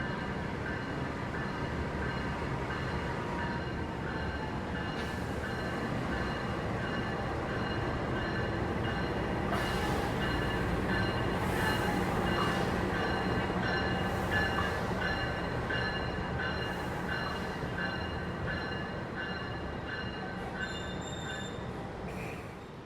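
Purwojaya additional passenger train on an Indonesian railway running steadily, a continuous rolling rumble with sustained wheel squeal and screeching tones throughout, fairly distant and even.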